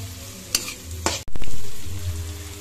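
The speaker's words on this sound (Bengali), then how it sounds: "এখানে আমাদের পেঁয়াজ, বিনস আর ক্যাপসিকাম এগুলো প্রায় ভাজা হয়ে গেছে।" Onions, beans and capsicum stir-fry in a pan with a close, loud hiss. Two sharp clattering stirs come through, then a surge of sizzling that slowly fades.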